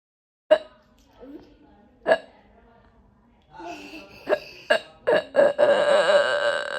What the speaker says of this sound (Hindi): यहाँ पे इसको इतनी हिचकी आ रही थी